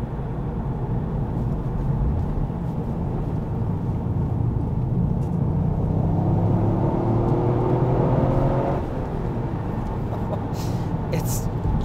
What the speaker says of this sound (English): It's just such a free revving car